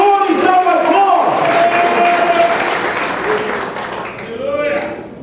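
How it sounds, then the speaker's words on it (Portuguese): A congregation at a church service claps and cheers loudly while a preacher speaks over the applause, which fades slightly toward the end. "Você pode aplaudir ao Senhor?"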